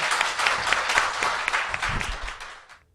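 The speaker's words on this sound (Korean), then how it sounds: "박수" Brief audience applause in a studio setting, a steady burst of clapping that fades out after about three seconds, with a faint voice near the end.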